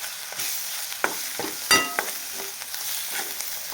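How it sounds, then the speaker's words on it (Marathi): Red chili powder sautéed in hot oil for a dahi tadka, a constant close sizzle punctuated by a few scraping stirs of a spoon in the pan, with no talking. "आता आपण ह्याला छान परतून घेऊया"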